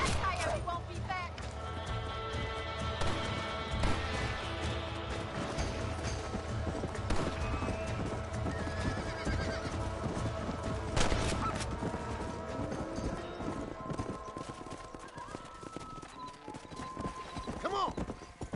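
Horse hooves clip-clop in the Western video game Red Dead Redemption, a steady rhythmic trotting under game music, effects and occasional speech.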